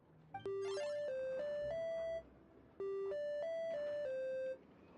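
Two bright, melodic electronic beep sequences from a machine in Genshin Impact, each a short run of clear sustained tones, separated by a brief pause and heard alone.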